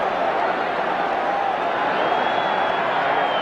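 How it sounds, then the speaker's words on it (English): Dense, steady roar of a huge stadium crowd at the 1985 NFC Championship playoff game between the Los Angeles Rams and Chicago Bears, a continuous wash of massed voices with no break. "Everybody in this crowd just roaring and looking with anticipation."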